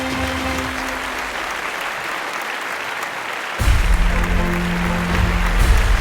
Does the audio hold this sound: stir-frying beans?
no